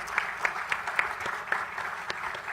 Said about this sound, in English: let's give these great folks a round of applause for their service.